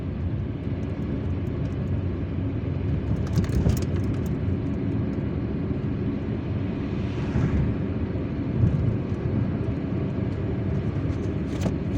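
A car drives through the streets of Algiers from El Madania toward Ben Aknoun early in the morning, a steady broadband road and engine rumble from inside the vehicle with occasional passing swells and no talk.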